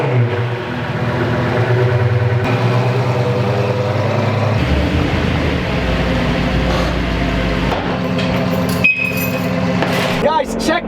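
A 2006 Lamborghini Gallardo engine fires up from cold, with a steady, loud, rumbling idle that holds through the whole stretch, slightly shifting in tone partway, while a voice talks over it.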